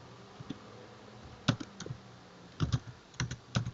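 Typing code on a computer keyboard: light, close key clicks in uneven bursts, isolated taps first, then quicker clusters, over a quiet room.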